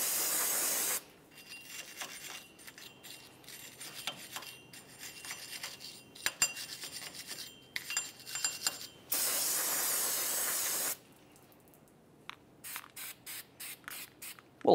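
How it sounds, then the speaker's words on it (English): Parts cleaner sprays onto a brake hub in loud hissing bursts, one at the start and a longer one near the end, with scrubbing and rubbing noises from a wire brush in between, close up and without speech. "Go ahead and use a wire brush and some parts cleaner."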